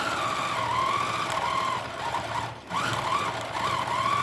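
A longarm quilting machine, the Cutie, stitches a pantograph pattern across a quilt with a steady, close mechanical hum and a fast needle rhythm that dips briefly midway and then resumes.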